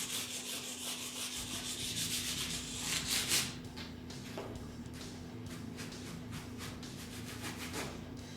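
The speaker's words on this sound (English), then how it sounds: "Then I come with some 600 sandpaper and I go over all the" Steady abrasive rubbing of 600-grit sandpaper on metal frets and fretboard edges of a Les Paul guitar, continuous back-and-forth scratching with a low electrical hum underneath, close up.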